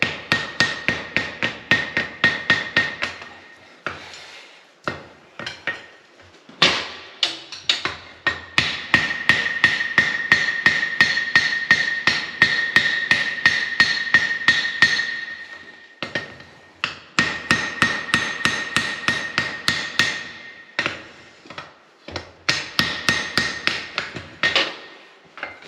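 Hammer blows ring out on hot steel while forge-welding mounting hardware for a post vise: rapid, metallic strikes in long rhythmic bursts, each run separated by short pauses, loud and close.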